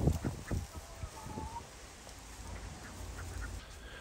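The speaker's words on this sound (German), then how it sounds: "Und die Laufenten gehen wieder auf Patrouille, stecken ihre langen Hälse ins Grün" Runner ducks foraging for slugs in a garden give a few soft, nasal quacks nearby early on, then fall quiet against faint outdoor background.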